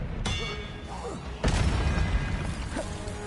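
Spell impacts from Hogwarts Legacy gameplay, with the Expelliarmus disarming spell cast amid other combat spells: a sharp burst at the start, then a heavy thudding blast midway that lingers under dense game noise, with a fainter hit near the end.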